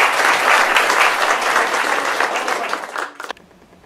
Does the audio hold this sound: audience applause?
yes